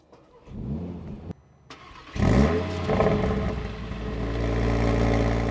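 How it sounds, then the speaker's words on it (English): A 2025 Audi RS3 engine starts, then revs up loudly and holds a rising, throaty drone with crackling overrun, close by. "the revs should jump up a bit more and we get a bit of overrun"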